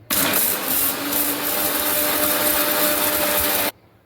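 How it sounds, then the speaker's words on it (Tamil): A mixer grinder blends roasted lotus seeds into powder for a homemade protein mix, giving a loud, steady, harsh whirring roar for about three and a half seconds before it abruptly cuts off. "இப்போ தாமரை விதையே அரைச்சிடுவோம்"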